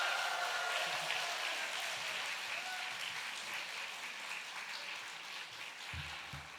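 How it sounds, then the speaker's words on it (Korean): A church congregation claps warmly in welcome for a pastor, a dense sustained round of applause filling the hall, tapering slightly with a few low thumps near the end. "우리 이성모 목사님 나오실 때 우리 격한 박수로 환영하도록 하겠습니다."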